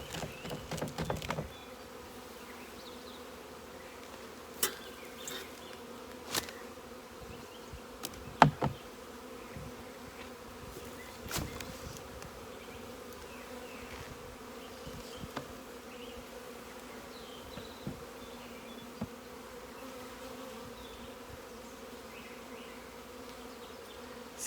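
Honeybees buzz softly around a brood frame from a hive, a faint continuous hum with scattered light taps and knocks from handling.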